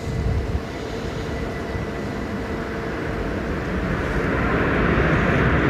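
A Ryanair Boeing 737 Max airliner at Luton, heard as a steady broadband jet roar that builds slightly toward the end, continuous and fairly close, with no voices.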